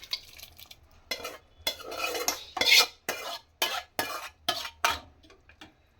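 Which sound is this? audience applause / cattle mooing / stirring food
stirring food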